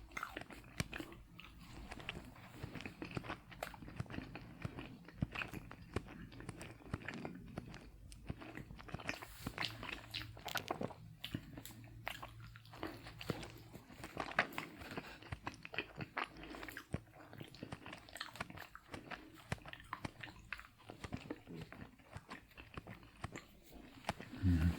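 Close, soft biting and chewing of a filled donut, with moist mouth sounds and small crunches recurring irregularly throughout in a quiet room.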